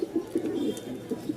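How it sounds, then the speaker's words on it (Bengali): Adult pigeons kept for sale, cooing softly in a quick series of low, throaty, repeated coos that stay close and gentle, with no voices heard. "এটা হচ্ছে নিউ অ্যাডাল কবুতর"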